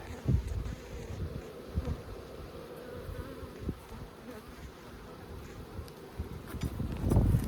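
Honey bees buzz in a steady, close drone during a beehive inspection in a bee yard, with soft low thumps and rustles from handling the hive frames.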